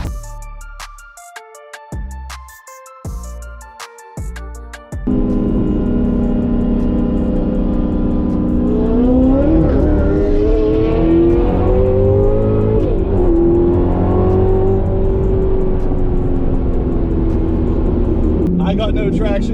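Two high-performance Corvettes, a C8 Z06 and a C7 ZR1, race side by side, engines roaring loud and steady with rising and falling revs as the tires spin for traction; a few sharp clicks and knocks come first, and a voice speaks over the din.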